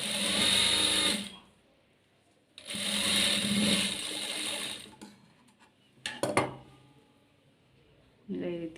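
A sewing machine stitches a blouse in two short bursts of whirring, rapid clatter, close and fairly loud, separated by pauses with small clicks and a brief third start; someone talks between the runs.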